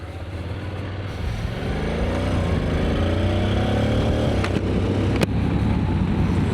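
A motorcycle engine rumbles and climbs in pitch as the bike pulls away and accelerates, steady and fairly close, with no talking.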